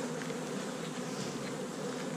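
Honeybees buzz in a dense, steady swarm hum during a hive inspection, close and continuous throughout with no voices.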